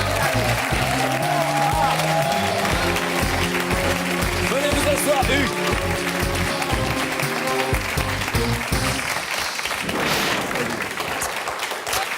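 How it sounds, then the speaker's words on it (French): A TV studio audience on a French game show claps loudly and rhythmically for an arriving guest, the applause running for several seconds under the host's voice before tapering off near the end. "On l'applaudit très fort."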